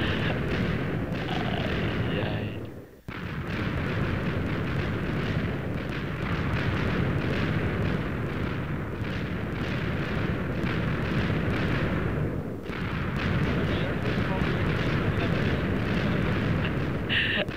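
Repeated TNT block explosions in a dark flat-world video game: a continuous, dense roar of overlapping blasts that rumbles on almost without pause, with a brief dip near the start.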